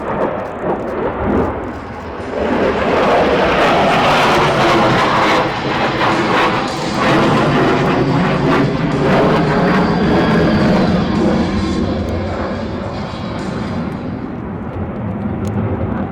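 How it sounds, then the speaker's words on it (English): A display aircraft at Aero India 2019 rolls along the runway in front of the crowd, its loud jet roar swelling and holding steady as it passes near, then easing slightly. "the aircraft will carry you out a series of rolls as it passes in front of you"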